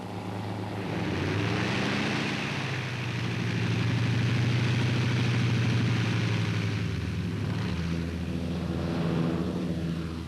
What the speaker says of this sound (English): the transports take off shortly before complete darkness